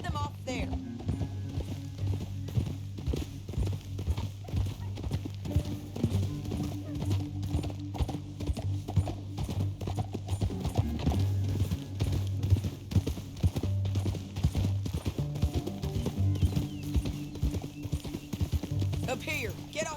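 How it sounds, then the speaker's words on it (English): Horses' hooves clip-clop steadily at a walking pace in the video game Red Dead Redemption 2, joined by an occasional whinny, while characters talk over them. "Up here, get off your horse."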